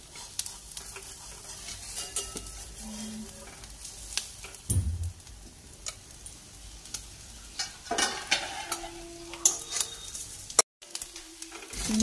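An egg omelette frying in butter in a pan gives a continuous sizzle, with scraping and stirring from a spatula and a few sharp clatters and knocks. No one speaks.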